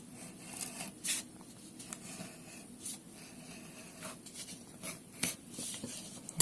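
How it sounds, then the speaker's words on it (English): A knife slicing open a Space Pepper Solar Flare chili pepper, faint soft cutting and scraping strokes repeating irregularly at close range in a quiet room. "Let's just get this cut open here."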